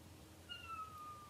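A cat meows indoors at a craft table, a short rising cry rising clearly above a quiet room background, heard alone without talk.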